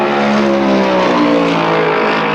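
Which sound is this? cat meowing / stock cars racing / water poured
stock cars racing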